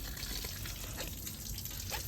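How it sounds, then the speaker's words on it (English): Water runs out through the holes of an ACO channel drain, a steady close trickling and gurgling flow with no talk. "water is going out through the ACO, through these holes, which are all along"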